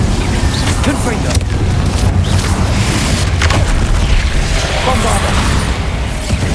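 Confringo fire spell explosions boom repeatedly in the Hogwarts Legacy video game, dense and loud bursts running through a busy combat soundscape with a voice shouting spell names over it.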